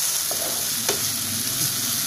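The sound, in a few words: chopped tomatoes frying in a pan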